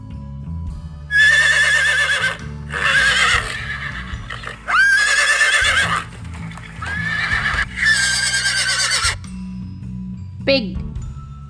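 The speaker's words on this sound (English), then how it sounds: "Horse." Several loud, shrill horse whinnies ring out in quick succession, each rising and trembling, then a single bell-like ding near the end, with light background music.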